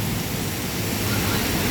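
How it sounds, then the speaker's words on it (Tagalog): Heavy rain pouring steadily outdoors, a loud, dense, unbroken wash of hiss and rumble with no pauses and no voices. "Ayan dito guys may ulan. Ang lakas."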